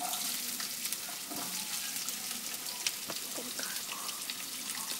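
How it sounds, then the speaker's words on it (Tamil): Onion and green chili sautéing in a pan, a soft, continuous sizzle with faint scrapes of stirring scattered through it. "வெங்காயம் ஆட் பண்ணிக்கோங்க. கொஞ்சம் சாட்டே பண்ணால் போதும்"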